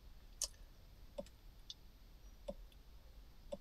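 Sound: clicking buttons on a KINGBOLEN Ediag Elite OBD2 scanner

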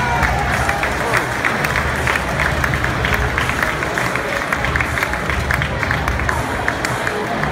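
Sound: stadium crowd applause for parachutists at football match

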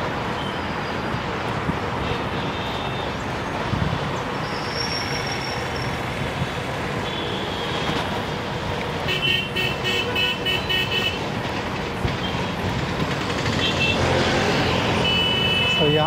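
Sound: stopped road traffic with cars and horns

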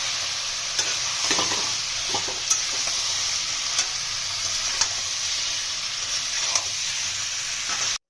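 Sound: sautéing spice paste with meat and tomato in a pan

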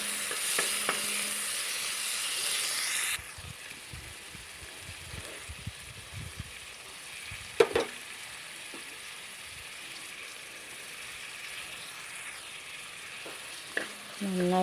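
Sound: onion sautéing with green chilli, garlic and ginger paste

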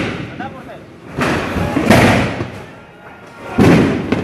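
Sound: gunshots

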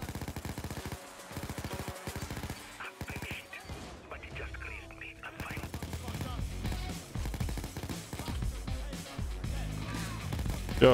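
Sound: minigun fire from dozer enemies in a video game

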